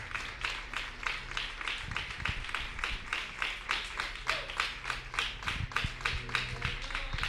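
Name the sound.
congregation applause welcoming guests in church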